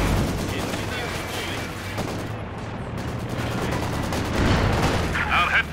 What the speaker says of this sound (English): Our headquarters is taking enemy fire.